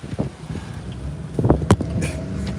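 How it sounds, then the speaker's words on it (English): Strong wind buffeting a microphone outdoors during a tornado warning, a steady roar with gusty surges and low rumbling thumps, close and loud with no talk. "That wind picks up, it blows everything"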